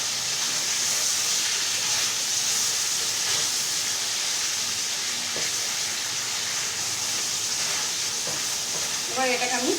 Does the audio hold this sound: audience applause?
no